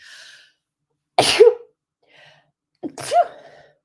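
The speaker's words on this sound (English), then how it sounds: "I have to sneeze." A person sneezes twice, sharp and close, each preceded by a short sharp intake of breath, with quiet pauses between them.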